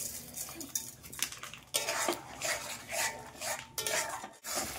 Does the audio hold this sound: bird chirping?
no